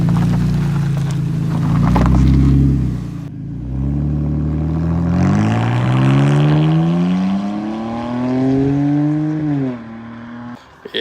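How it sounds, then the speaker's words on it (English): An inline-six car engine pulls hard, rising in pitch through the revs, dropping at a gear change, then climbing again before easing off; loud and close throughout. "there's something about a inline six that just sounds so good"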